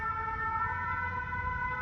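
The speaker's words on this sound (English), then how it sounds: "These Belgian ambulances are pretty awesome." A Belgian ambulance siren in Brussels holds a steady, bright electronic tone, heard at moderate distance over low traffic rumble.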